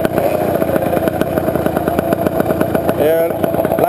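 Dirt motorcycle engine running at a motor bike event in Miami, a loud close rattling idle with rapid regular firing pulses and a slight rev near the end, with voices underneath.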